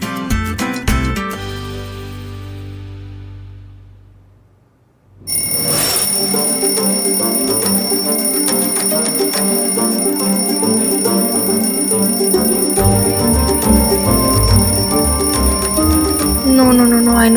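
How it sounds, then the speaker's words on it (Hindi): An alarm clock rings loudly in a TV drama scene, starting with bright bell ringing, briefly fading to near silence, then a continuous metallic ring that persists to the end, with spoken voices mixed in. "कोई बंद करो इस अलार्म को।"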